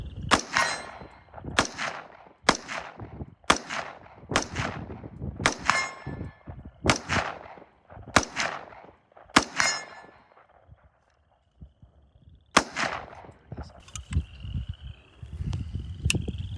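An AR-15 with a replacement Bear Creek upper fires US-made 7.62x39 rounds. About ten sharp, ringing reports come in steady succession, then a short pause, a few more shots, and a steady ring near the end.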